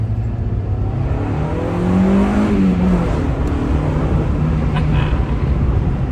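A 1995 Honda Civic Del Sol Si with a five-speed manual drives along, its engine humming steadily close by and swelling into a brief rev midway before settling back to a constant drone with road noise.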